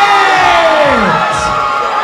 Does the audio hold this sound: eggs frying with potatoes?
no